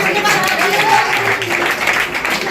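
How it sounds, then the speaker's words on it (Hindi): Audience clapping at a general knowledge quiz competition, a brief continuous patter of many hands under a speaking voice. "तालियां बजा दीजिए, तालियां बजाएं।"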